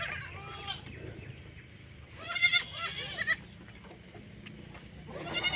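A goat bleats several times, nearby and fairly loud, with short wavering cries and quieter stretches between them.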